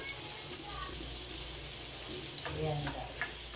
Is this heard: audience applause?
no